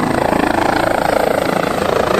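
A rescue helicopter hovers close overhead during a coastal rescue between Sant Feliu and S'Agaró, its rotor throbbing loudly and steadily with a dense, even chop.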